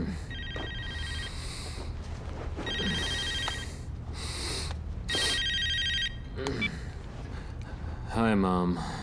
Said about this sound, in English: Why weren't you picking up your phone?